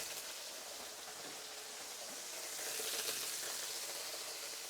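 Halloumi frying in a hot pan gives a steady, dense crackling sizzle with no breaks, growing slightly louder partway through.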